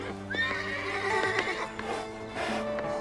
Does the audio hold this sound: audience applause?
no